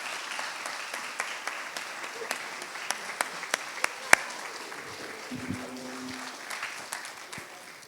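Wedding guests applaud after the speeches, a moderate patter of scattered claps with a few sharp, close individual hand claps standing out, plus a brief low voice partway through.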